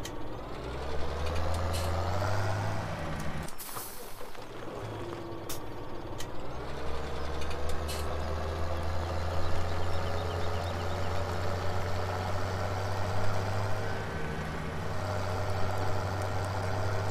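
Tractor engine running in a farming simulator game on a rural French map, a steady loud diesel drone that briefly cuts out, then idles and revs on with continuous low hum and faint mechanical clicks.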